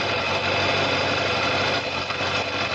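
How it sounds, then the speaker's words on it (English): A motorcycle engine idles steadily while warming up toward operating temperature during an oil pressure check, a continuous close rumble with no pauses or talk. "now we're warming up the bike so that it reaches 90 GR"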